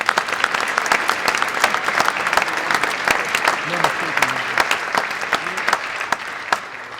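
Legislators and guests applaud during a governor's State of the State address, loud, crisp clapping from a large room with voices and brief calls mixed in, easing slightly toward the end.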